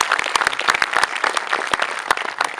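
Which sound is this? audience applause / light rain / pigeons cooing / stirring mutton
audience applause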